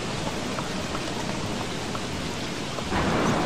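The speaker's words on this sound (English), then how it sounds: "Oh god, it's thunder as well, that will not be good." A steady hiss of rain fills the Don't Starve video game scene, with a rumble of thunder building near the end, no voices over it.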